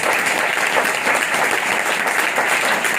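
A church congregation in Pakistan claps loudly during a sermon, giving a dense, steady wall of applause that fills the whole stretch with no letup.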